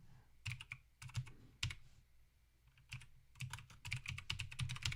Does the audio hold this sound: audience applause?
no